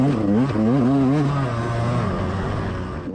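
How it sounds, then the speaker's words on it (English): A dirt bike engine lugs at low revs on a slick, low-traction GNCC cross-country course at Snowshoe, a steady close drone with a wavering pitch that fades slightly toward the end. "if you guys kind of hear the bike lugging a little bit more than usual races"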